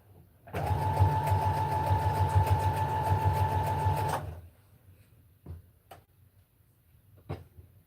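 A sewing machine stitches in a fast, steady whirring run of about four seconds, then stops, leaving a few faint clicks and knocks in the quiet afterward.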